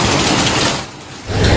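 Heavy monsoon rain falls near a bypass bus stop, a loud, continuous broadband wash that briefly dips before surging back at full strength; no voices are heard.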